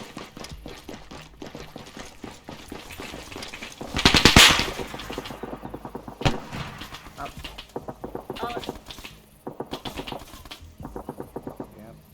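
Video game gunfire erupts in bursts, with rapid automatic fire and sharp single shots, one loud volley in the middle and more clattering bursts later, while voices talk over it.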